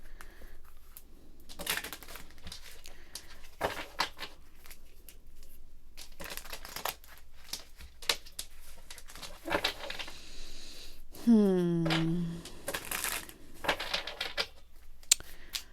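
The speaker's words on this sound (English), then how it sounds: "we're going to pull out little tarot cards and see what they're talking about" Tarot cards being shuffled and handled, with a steady run of soft papery flicks, taps and riffles close by, plus a brief rising whistle-like tone partway through; no speech.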